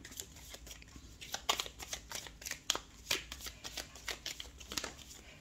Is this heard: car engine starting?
no